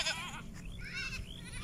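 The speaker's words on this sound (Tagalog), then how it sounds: "Yung kambing po namin, bali, di ko alam kung ilan" Goats on a family farm bleat in quick, wavering cries, close and loud, several overlapping calls packed into a short burst.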